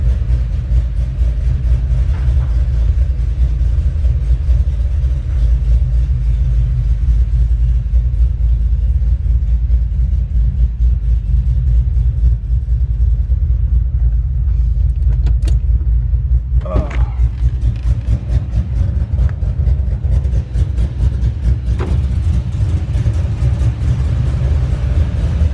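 Steady low car engine rumble from inside a vehicle circling the block at night, holding a constant drone with no clear revving, a few faint clicks and thumps over the top.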